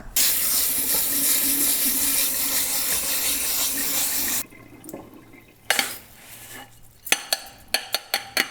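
Rice being rinsed under a running kitchen tap, a steady rush of water for several seconds, then quieter splashes and scattered clinks of grains and a pot as the flow stops.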